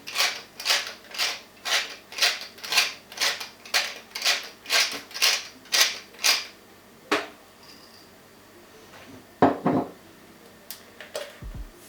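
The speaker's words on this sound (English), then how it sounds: "Freshly ground black pepper," Black pepper ground by hand in a pepper mill for a simple salt, pepper and paprika marinade: about a dozen rhythmic, evenly spaced grinding crunches, close and clear, followed by a few scattered kitchen clicks and knocks.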